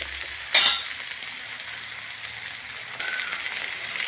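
Tomatoes roast in a pan for corn masala Maggi, making a soft, steady sizzle. One sharp clatter comes near the start, and a faint hiss rises toward the end.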